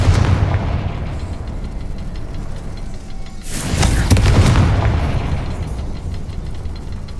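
Fiery Confringo spell blasts in Hogwarts Legacy: a rumbling explosive burst erupts midway, loud and booming, over a continuous low roar of battle ambience with no voices.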